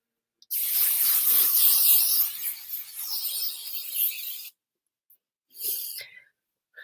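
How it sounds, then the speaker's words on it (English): Aerosol hairspray sprayed onto hair at close range: one long hissing burst of about four seconds, then a tiny puff and a final short spray. "I gotta spray my hair real quick."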